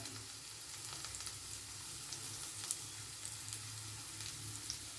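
Thinly sliced ivy gourd sizzling in a pan, a soft, steady hiss with light crackles and faint stirring, fairly quiet and close, with no talking.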